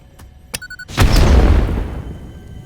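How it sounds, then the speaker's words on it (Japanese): An explosion in the video game Satisfactory goes off after a few short clicks and a brief tone, a single loud boom with a deep rumbling tail that slowly fades out. "ちょっと爆発うるせえな"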